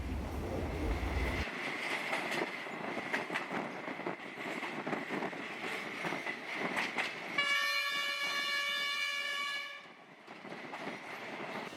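A rattling train rolls along the rails with clattering and creaking, then a loud, sustained horn blares for a couple of seconds before the rumble continues.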